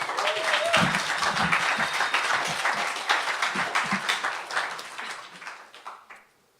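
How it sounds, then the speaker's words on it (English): A crowd at a PechaKucha Night event at The Wonder Inn, Manchester, claps in a dense, steady burst of applause for about six seconds before it quickly dies away. "give them a round of applause."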